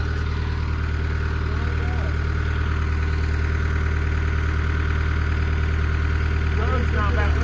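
A tractor engine drives the PTO of a firewood splitter, running as a steady, loud, low drone that holds unchanged throughout.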